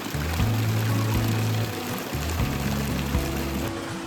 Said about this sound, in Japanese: アセキアの中庭では水の音がするのでとても涼しげです。